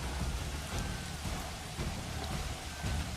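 Rain in the medieval city-building game Manor Lords, a steady hiss of downpour with low rumbling underneath, continuous and even throughout.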